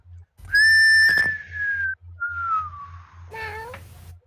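A person whistles a few long sliding tones, loud and near, ending in a short wavering note, over a steady low rhythmic hum.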